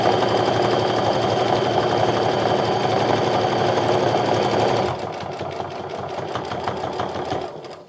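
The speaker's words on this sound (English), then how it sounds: "Now I'm going to stitch 1/4 inch away from that folded edge." Sewing machine top stitching a fabric wallet a quarter inch from a folded edge, a steady close mechanical whir that runs several seconds before easing to a slightly lighter, rhythmic hum.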